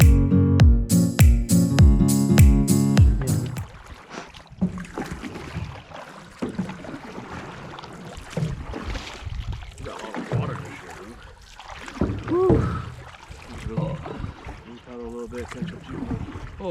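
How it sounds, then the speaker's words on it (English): A small boat is paddled through a shallow, weedy marsh on a duck hunt: soft splashes and water trickles from the strokes follow a short burst of music, with faint ambient noise around. "Now this is actually nice where you can actually paddle now."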